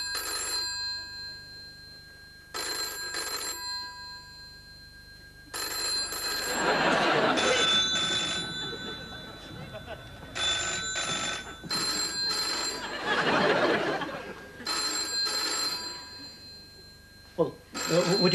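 A landline telephone bell in an old British soap set rings in repeated bursts, loud and close, with pauses between rings while people talk over and between them.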